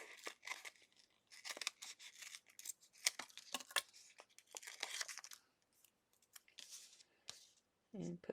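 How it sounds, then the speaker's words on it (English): Paper is trimmed with scissors for a handmade watercolour-pencil birthday card: a quick run of crisp, close snips and light paper rustles, ending with a soft low thump. "And I'm just going to trim half a piece here."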